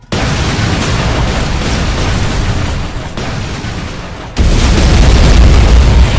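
A loud detonation in a Terminator video game roars out as a sustained, rumbling blast, dips briefly, then surges again into a second heavy wave of explosive noise to the end.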